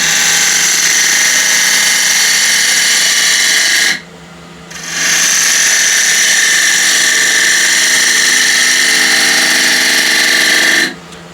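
A wood lathe spinning an ash cross-grain box at 1400 RPM gives a loud, steady whirring drone with tonal whine, cutting out briefly for about a second before resuming, then stopping near the end; no talking.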